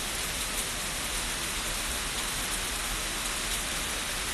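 Heavy rain pours down outside in a steady, even roar of dense drops, moderately quiet and continuous throughout, with no voices.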